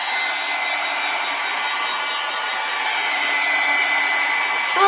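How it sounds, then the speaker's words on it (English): A hair dryer blows steadily at close range, drying acrylic paint, a constant loud whooshing hum with no talking. "I'm going to take a hairdryer or your heat gun, dry it up"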